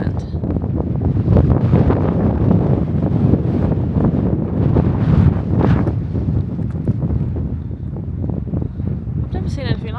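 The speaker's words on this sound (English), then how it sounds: "The wind is blowing" Strong gale force wind buffeting the microphone on the coast at Dungeness, a loud, continuous roar with gusty surges throughout, with a voice faintly mixed in.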